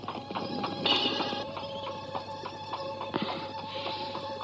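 Horse hooves clip-clop in a steady rhythm as a horse-drawn carriage draws near, with light clatters and creaks over a soft background.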